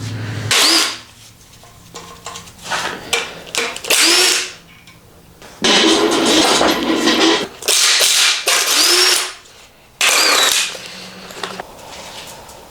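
Pneumatic impact wrench on an AWD Honda Civic EP2 in cold weather, firing in several loud, close bursts of hammering rattle of one to two seconds each, separated by short pauses.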